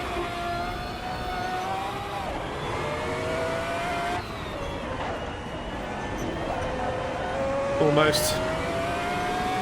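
A Pagani Huayra lapping a race track, its engine droning steadily and rising and falling in pitch through the corners. A brief spoken word is heard over the car.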